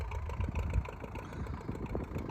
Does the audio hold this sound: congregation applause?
no